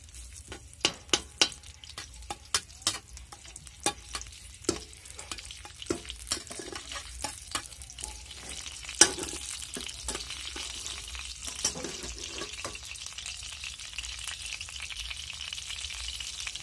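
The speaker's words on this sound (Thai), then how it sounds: "พอไฟเริ่มร้อนปุ๊บเราก็ใส่กระเทียม" Garlic sizzling and frying in a hot pan for stir-fried Israeli stevia shoots, with repeated sharp clacks of a utensil stirring against the pan over a steady hiss, the scraping thinning out toward the end.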